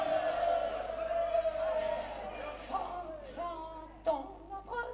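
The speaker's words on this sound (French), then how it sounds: "Une foule bruyante et bigarrée converge menaçante vers le cœur" A noisy, menacing crowd at an outdoor son et lumière show murmurs and calls out in a continuous blended roar, with scattered shouts and whoops rising above it.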